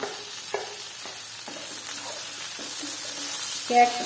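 Capsicum hits hot oil with sautéed onions, a quiet steady sizzle under a few light knocks and stirring scrapes, close and fairly soft.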